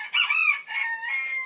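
A Sebright and Serama cross bantam hen with her chicks gives a short, close call, a brief bright vocal burst lasting under two seconds.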